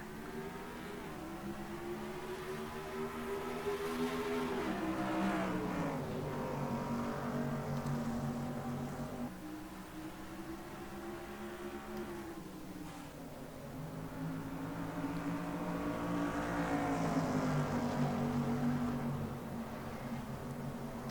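Race cars at the green-flag start of the Safeway 100 at Willow Springs in the NR2003 racing game: a dense, continuous drone of many engines revving and shifting together, rising and falling, with no voices.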